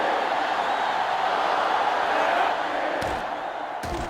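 Stadium crowd in the NCAA Football 2005 video game on GameCube, Georgia versus Michigan, a dense, sustained roar of cheering that swells steadily, then dips near the end.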